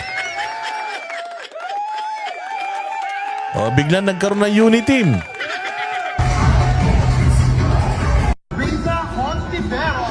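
A rally crowd yells and chants Duterte at someone in a loud, rowdy mass of voices, rising in waves of whooping and bellowing, with someone speaking over the noise at one point.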